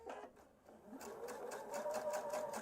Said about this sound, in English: I'm going to top stitch on piece number 2